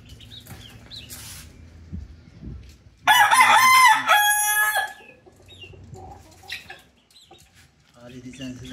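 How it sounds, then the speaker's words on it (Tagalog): A rooster crows loudly and close for a couple of seconds, with softer hen clucks and scattered farmyard sounds before and after. "Mga simpleng manok lang."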